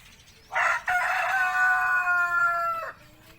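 A Barred Rock rooster crows once, loud and close, in a long drawn-out call on a free-range farm, with quieter hens faintly clucking around it.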